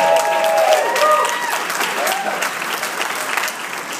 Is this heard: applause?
yes